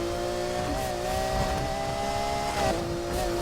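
A Lamborghini Murcielago launching hard in the street-racing game Need for Speed Heat, its engine holding a loud sustained roar with a brief shift dip partway through.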